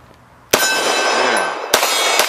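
Two loud, close pistol shots from a CZ P-09 fired double action, each followed by a bright metallic clang from a steel target, the first ringing out for about a second before the second hit.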